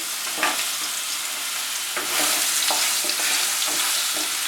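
Steady hiss and crackle of pumpkin pieces frying in hot oil, with occasional louder pops and stirring clinks over the constant sizzle.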